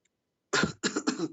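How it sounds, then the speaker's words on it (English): A person coughs three times in quick succession, close and fairly loud, with silence before the first cough. "You need to cough a lot."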